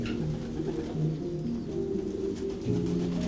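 Pigeons coo steadily on a large pigeon breeding farm, a dense overlapping chorus of low, rolling calls from many birds at close range, with no speech.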